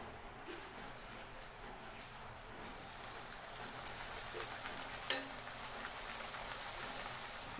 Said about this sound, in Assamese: এতিয়া ভাজিম পুৰি